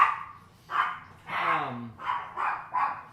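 Dogs barking indoors in a series of about five sharp barks, close and loud, one drawn into a whiny yelp, spaced roughly half a second apart.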